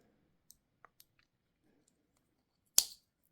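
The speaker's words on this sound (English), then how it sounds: "we're gonna cut the yarn" A single sharp snip of scissors cutting crochet yarn, loud and close, coming after a few faint clicks and soft handling sounds in an otherwise quiet room.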